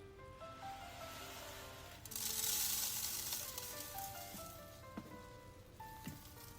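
Dry soybeans spill into an oven tray in a soft, rain-like patter, with a denser rush of pouring and a few sharp clicks of beans striking the tray, all fairly faint.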